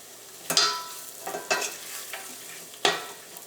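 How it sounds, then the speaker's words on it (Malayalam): Turmeric and Kashmiri chili powder fry in oil for a tomato curry, a faint low sizzle broken by several sharp scrapes of a spoon stirring the pan, close up and without voices. "ഈ മഞ്ഞൾപ്പൊടി എണ്ണയിൽ കിടന്ന് നന്നായിട്ട് മുരിഞ്ഞിട്ടുണ്ട്"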